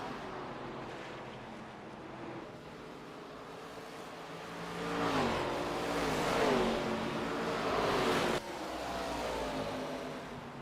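Race cars lapping the oval at Iowa, a broad roaring engine wash that swells as the pack passes mid-clip, then drops abruptly and continues at a slightly lower level.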